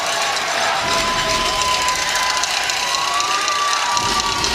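Crowd at a sitting volleyball match at the Warrior Games cheering for the Air Force team, a steady, dense roar of voices held at even loudness throughout, with thin whistling tones drifting over the noise.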